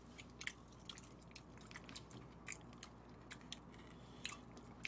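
Crispy fried chicken with a spicy chili coating being bitten and chewed during a close-miked eating session, with repeated sharp crunchy bites and soft wet chewing spread across the whole stretch.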